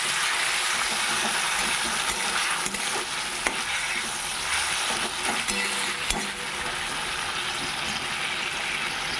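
Potatoes and spice paste fry in a pan with a little water, giving a loud, continuous close sizzle with scattered crackles and soft stirring scrapes throughout.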